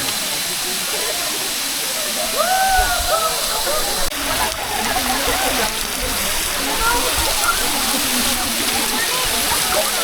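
Water pours down like a shower at a spring resort waterfall, a loud, continuous roaring rush close by, with voices talking over it.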